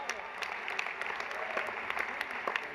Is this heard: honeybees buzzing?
no